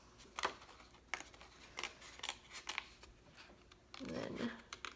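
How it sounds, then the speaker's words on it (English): Scissors punching a small hole through a card while making a junk journal page: a few soft, close snips and crinkly card rustles, quiet, with a brief louder scraping at the end. "I'm actually just going to use my scissors, just kind of punch a little hole here"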